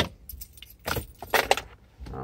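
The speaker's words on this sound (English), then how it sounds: "I'm actually gonna kill the engine." A set of car keys jangles in short metallic bursts as a car's engine is switched off, close and fairly loud, with brief pauses between the shakes.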